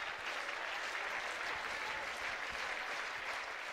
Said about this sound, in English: Home crowd behind Doyle